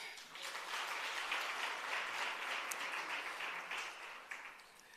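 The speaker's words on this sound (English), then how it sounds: "Another applause." Audience at a hybrid capacity-building workshop and expo applauding, an even wash of clapping held at moderate level throughout before easing off slightly at the end.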